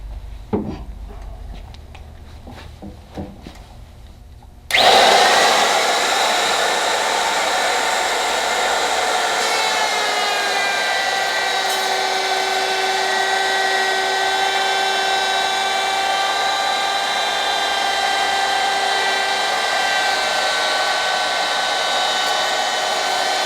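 A power tool spins up abruptly and runs as a loud, steady high whine, machining the edge of a plywood sheet, its pitch shifting slightly as it works, with light knocks and handling before it starts.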